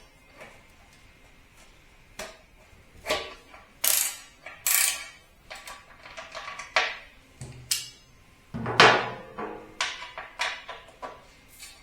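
Irregular clicks, ratcheting turns and metallic taps as a tool loosens the bottom screw on a Ducati Multistrada 1260S, close and fairly quiet, with scattered pauses between bursts.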